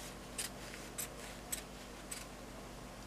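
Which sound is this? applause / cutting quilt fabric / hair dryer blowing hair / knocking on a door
cutting quilt fabric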